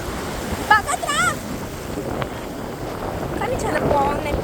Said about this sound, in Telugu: ఇప్పుడు అలలు వస్తాయేమో చూద్దాం.